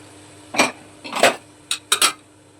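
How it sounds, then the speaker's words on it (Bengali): Boiled chickpeas being stirred into spice masala in a pan, a utensil clanking against the metal in several separate bursts, close and loud, with quiet between strokes. "এবারে মশলার সঙ্গে কাবলি ছোলাটা খুব ভালোভাবে মিশিয়ে নেব"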